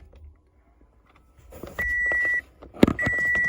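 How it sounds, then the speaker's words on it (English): Ignition of a 2016 Toyota Sienna switched on, a faint click and rustle followed by a clear electronic chime tone, a brief gap with a knock, then the chime sounding again, close by in a quiet cabin. "I'm holding down the ODO trip button and I'm gonna turn the ignition to on."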